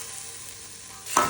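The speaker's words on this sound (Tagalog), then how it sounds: "So gisa-gisa lang yan guys." Chicken afritada ingredients sauté in a pan with a steady soft sizzle, then a brief louder burst of frying and stirring near the end.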